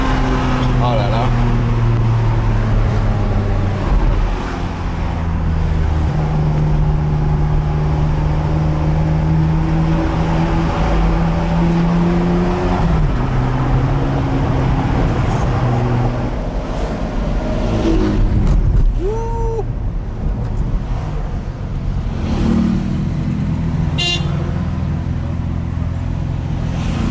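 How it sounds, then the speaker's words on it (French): A convoy of supercars, a Bugatti EB110 and a Porsche Carrera GT with an F12 ahead, drives on open roads, their engines droning and revving steadily and loudly throughout while people talk over the noise. "Des convois comme ça, Bugatti EB110, Carrera GT, c'était Raoul de RM Autosport"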